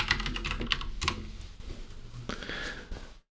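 Quick irregular clacking of fingers typing on a computer keyboard, close and crisp, with keystrokes clustered in bursts and no talking.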